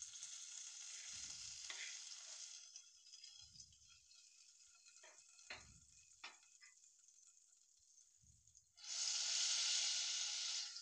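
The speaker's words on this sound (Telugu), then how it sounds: "ఇది గోల్డ్ కలర్ వచ్చే వరకు వేపుకోవాలి." Nuts frying in a pan until golden for paravannam give a steady, close sizzle with intermittent stirring scrapes and clinks. The hiss swells into a loud, bright burst near the end.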